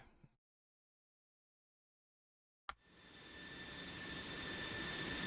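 An aircraft taxiing at a military air show, with a jet engine's whine and hiss building steadily and loudly after a brief silence, a steady high tone riding above the broad roar.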